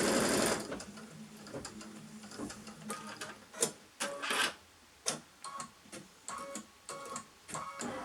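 A sewing machine stitches down layers of fabric in short bursts of quick mechanical clatter, close and fairly quiet, with brief pauses and clicks between runs.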